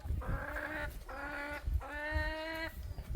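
Several chickens cluck in drawn-out, rhythmic calls close by in Laos, over a steady background of outdoor noise.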